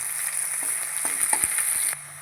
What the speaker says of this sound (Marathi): कांदा मिरची आणि लसूण चांगलं भाजून घेऊया